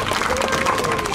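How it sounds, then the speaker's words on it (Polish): Crowd applause for a street magician's card trick at a carnival of performers, a brief burst of dense clapping and audience noise with voices mixed in. "Wielkie brawa dla węża!"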